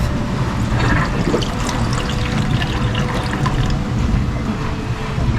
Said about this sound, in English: So we'll take a little bit of whey off.